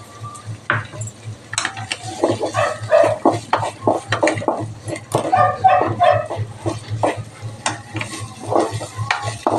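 Rhythmic stirring and scraping of chopped onion in a sizzling pan, with repeated strokes and occasional clinks of utensil against metal.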